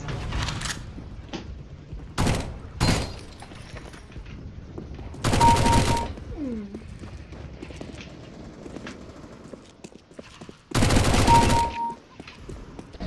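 Gunfire in CS:GO: several sharp, loud bursts of shots spaced irregularly, some single cracks and a couple of longer rapid volleys, with quieter game noise between them.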